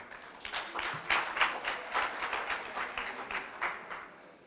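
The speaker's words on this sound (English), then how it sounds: "Another 6, and another round of applause" A faint round of applause from guests at a 90th birthday celebration, scattered hand claps rising and falling in soft uneven waves, fairly distant.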